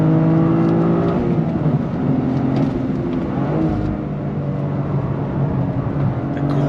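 A 2023 Toyota GR Corolla Circuit Edition engine pulls hard under throttle on a twisty road, a steady loud droning rise heard from inside the car with no talking.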